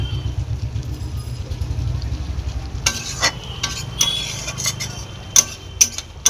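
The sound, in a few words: frying spice masala in oil for mutton curry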